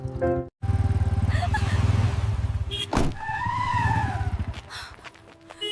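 A motorcycle revs in fast, pulsing bursts near and loud, cuts out briefly, then surges again through a sharp skid and tire squeal, with rising engine whines trailing off.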